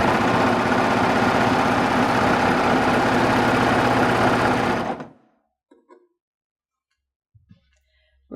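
A Baby Lock serger stitches fabric in a steady, loud, fast mechanical whir for about five seconds, then stops abruptly, leaving faint clicks and handling noises.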